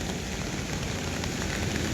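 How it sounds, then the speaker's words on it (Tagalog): Steady rain falling on a surface, a continuous dense patter with no voices, fairly close and even throughout. "Umuulan pa."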